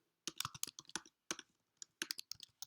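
Keystrokes on a computer keyboard while entering code, a quick run of crisp clicks in several bursts with short pauses between them, close and fairly quiet.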